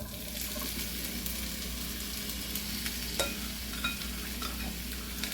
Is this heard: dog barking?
no